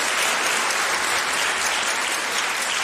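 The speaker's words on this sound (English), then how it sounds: "Please, a warm round of applause." An audience at a football fan debate gives a warm round of applause, producing a thick, continuous wash of clapping that stays even and loud throughout the short stretch.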